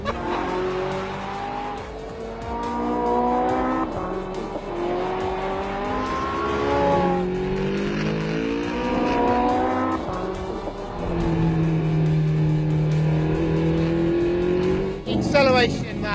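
A 2018 Porsche 918 Spyder, 887 hp, accelerating hard through repeated gear changes, engine pitch climbing and dropping in steps, loud and close with people talking over it.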